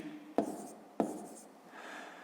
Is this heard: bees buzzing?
no